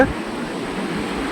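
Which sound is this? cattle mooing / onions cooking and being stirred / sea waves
sea waves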